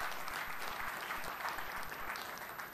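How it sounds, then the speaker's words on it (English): Fairly faint, dense applause from an audience at a career session, a continuous wash of many hands clapping at an even level throughout. "You have to appreciate. Give a clap."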